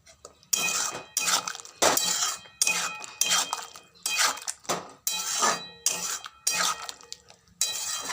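Okra stirred in a pan with salt, turmeric and cumin powder: repeated metal scraping and clinking strokes in a steady rhythm, close and fairly loud, with no voices.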